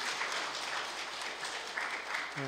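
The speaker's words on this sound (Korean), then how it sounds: "우리 다시 한번 우리 어버이들을 위해서 우리 박수로 감사합니다" A church congregation at a Parents' Day service claps warmly and continuously, a dense, even wash of applause that cuts off near the end.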